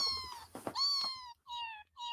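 Cats meow at close range in a run of long, tonal mewing calls, three or four drawn-out cries broken by short pauses, with no speech over them.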